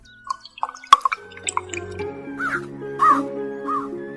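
A crow gives several harsh caws between scattered drips and splashes of water into a pot, with plinking musical tones underneath; the calls are close and clear.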